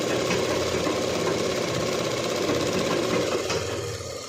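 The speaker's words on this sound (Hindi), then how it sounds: "इसके बाद हमें यहाँ पे सिलाई को लगा देना है।" A sewing machine stitching a Rajputi suit, with a steady close mechanical whirr and rapid rattle running continuously for about four seconds, slightly fading at the end.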